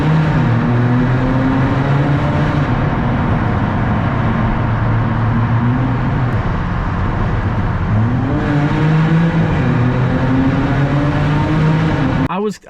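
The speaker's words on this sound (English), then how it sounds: "the exhaust sounds incredible on this car" Jaguar F-Type S driving with a loud exhaust, its engine droning and rising in pitch as it revs and shifts, heard steadily from inside the car while a person talks over it.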